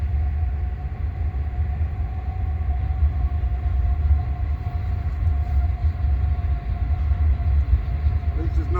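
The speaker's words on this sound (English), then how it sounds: "Lovely, we got a train coming through." A train passes close by with a steady, loud low rumble and a sustained tonal hum, continuing through the whole stretch without letting up.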